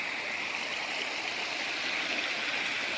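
A small river stream flows steadily, a dense continuous hiss and rush of water close to the microphone with no pauses or voices.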